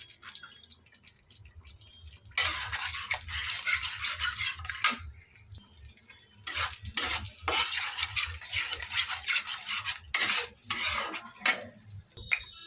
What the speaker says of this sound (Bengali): দেখো এখানে আমি 2টো ডিম ফাটিয়ে নিয়েছি, ভুজিয়া করে নেব।